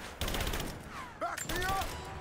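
Gunfire in a video game, dense rapid shots rattling continuously for the whole moment, with a voice briefly speaking over the barrage midway.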